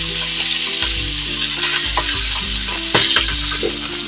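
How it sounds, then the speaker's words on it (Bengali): Small hilsa fish, just turned, frying in hot oil in a pan with a continuous loud crackling sizzle and sharper bursts as oil bubbles up, close by with no voices. "এই যে ফুটে ফুটে উঠছে"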